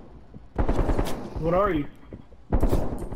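Gunfire in the video game Call of Duty: Black Ops Cold War comes in two loud broadband bursts, one at the start and a second near the end, with a voice speaking between them.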